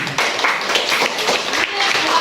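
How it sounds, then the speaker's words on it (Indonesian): Students in a classroom applaud with a short burst of scattered, overlapping hand claps, mixed with voices. "Tepuk tangan"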